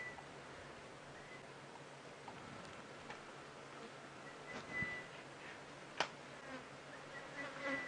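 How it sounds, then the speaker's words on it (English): Flies buzzing around an outdoor safari drive in the African bush, a faint steady drone with a few sharper clicks and close passes over quiet surroundings. "Can you hear the flies as well as they're buzzing around?"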